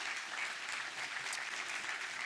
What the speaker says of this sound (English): How about a nice round of applause again?